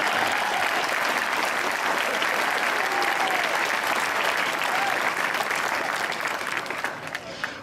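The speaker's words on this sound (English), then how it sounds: "All right, you guys can clap now." A large graduation audience claps and cheers for honor students, a dense continuous wash of applause sustained for several seconds before easing off at the end.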